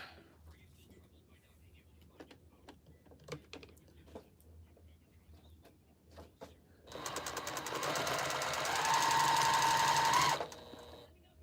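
A sewing machine chain piecing heavier cotton quilt fabric, a steady loud motor whir running for about three seconds after quiet handling noises and brief talk.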